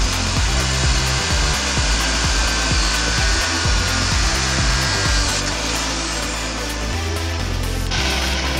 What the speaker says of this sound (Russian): отрезаем с помощью болгарки